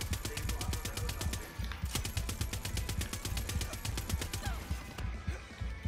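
A mounted machine gun in Far Cry 6 fires in long rapid bursts, a steady rattling stream of shots with a short break partway, loud and close throughout.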